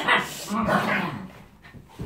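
Several dogs bark and yip indoors in a few short bursts, partly overlapping a voice as she talks.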